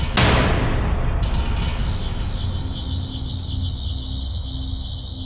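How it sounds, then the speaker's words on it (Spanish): Crickets chirp steadily on a dark night around a hacienda, a continuous high shrill trill that sets in early and carries on through the clip over a low rumbling background. "La noche oscura y sin estrellas envolvió la hacienda, y solo los grillos cantaban."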